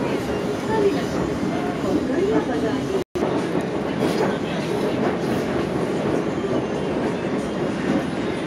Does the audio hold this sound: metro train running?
yes